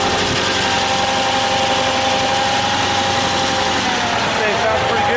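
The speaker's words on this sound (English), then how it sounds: "Okay, well, it runs. Minus a little bit of valve noise, it runs actually surprisingly well." Engine of a car that sat unused for 40 years, running steadily at idle with a little valve noise, a loud continuous rumble close by with a voice speaking over it.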